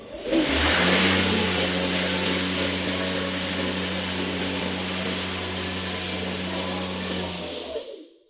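A Ryobi electric lawn mower starts and runs with a steady close whirring hum, blade and motor noise holding even for several seconds before shutting off and dropping away abruptly.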